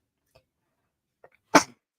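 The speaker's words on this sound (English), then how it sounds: "I'm about to sneeze, hold on." A single sharp, loud sneeze bursts out near the end, preceded by a couple of faint breaths or small sounds, with quiet surroundings otherwise.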